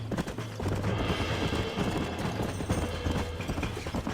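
Horse hooves gallop in a steady, rapid clip-clop rhythm throughout, loud and close within the Western game Red Dead Redemption, over a constant background din.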